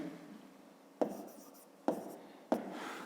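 Pen or chalk writing out math notes for a fifth-grade area problem, three sharp strokes starting at about one-second intervals over faint background hiss, close and moderately quiet with no talk.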